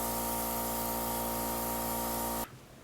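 A Temptu airbrush system sprays makeup foundation in a steady, even hiss that runs continuously for over two seconds, then cuts off abruptly, leaving quiet room tone.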